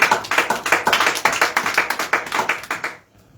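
A church congregation applauds loudly at a leaders' workshop service, a dense, continuous burst of many hands clapping close by for about three seconds before cutting off abruptly into near silence.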